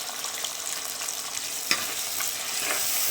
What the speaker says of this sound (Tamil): பாருங்கள், நல்லா வதங்கிட்டு இருக்கு.